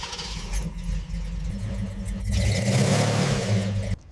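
A restored 1957 Chevrolet Bel Air's engine runs with a close, steady rumble, then swells louder partway through before cutting off abruptly near the end.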